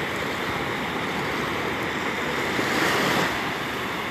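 Ocean surf breaks steadily on Siesta Key Beach, a continuous broad wash of waves with a slight swell near the end, mixed with some wind noise and no voices.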